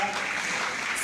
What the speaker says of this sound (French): à chaque fois que je vais citer un nom, il faut applaudir